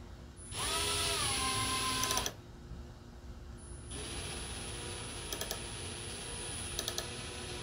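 A ratchet backdrag test machine turns a Craftsman ratchet, with a motor whirring in two bursts and quick rapid clicking of the pawl, close and moderately loud.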